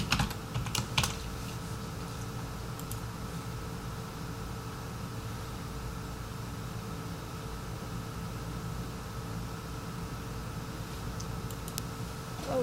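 Someone types a password on a computer keyboard during a software login, with a short burst of close key clicks at the start and a few more near the end over a quiet background hum.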